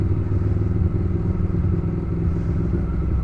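A Ducati Monster S4 motorcycle engine running, a close, loud, throbbing low rumble with an even pulsing beat that continues steadily throughout.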